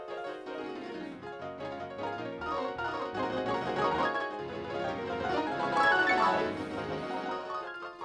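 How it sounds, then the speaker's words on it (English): Debussy's Clair de Lune rendered from a MIDI file by a computer and played back at a very fast tempo, a dense, continuous flurry of piano-like notes swelling and fading with no talk. "plays the MIDI file in a very fast way"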